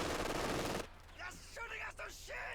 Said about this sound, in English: Must just be the savage LMG fire